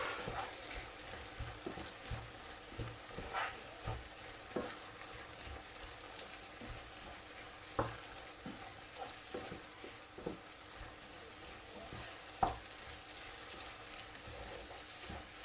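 Chicken curry taco filling sizzles in a frying pan while a utensil stirs and scrapes through it, with a steady hiss broken by soft irregular knocks. Close, moderately quiet, no talk.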